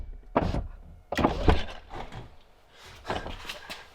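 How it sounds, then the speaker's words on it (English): A C6 Corvette Z06 door thumps shut, then opens and closes again, giving a few solid, close thunks spaced across a quiet moment. "so let me close the door and reopen it."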